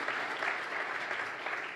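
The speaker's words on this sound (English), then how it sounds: "Let's give our veterans a round of applause for their service" An audience applauds veterans in a room with a dense, steady wash of clapping that holds evenly throughout and stays moderately loud.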